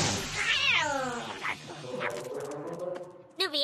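Cartoon cat meowing, a long drawn-out wailing meow that bends in pitch, followed by shorter yowls and a final sharp cry at the end.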